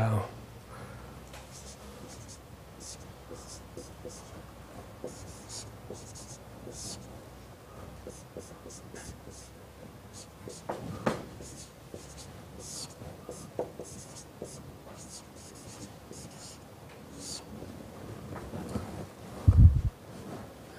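During an engineering lecture on radiation from an infinite plate, marker or chalk scratches steadily across a board as equations are written, in long continuous strokes with a thump near the end and faint speech underneath.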